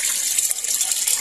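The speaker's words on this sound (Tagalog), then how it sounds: "Yung mahulog dito na tubig yun yung malinis na." Water runs through a homemade water filter in a steady, hissing stream, close and continuous without a break.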